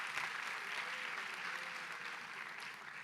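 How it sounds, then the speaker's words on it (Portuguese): Church congregation applauding the media team, a moderate round of clapping heard at some distance with a few sharper claps near the start. "dá uma salva de palmas para os nossos irmãos da mídia ali"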